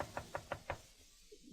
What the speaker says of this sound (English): knocked on the door of Holiday Inn